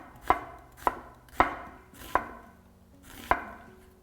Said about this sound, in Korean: 썰을 때 아주 가늘게 썰어주세요.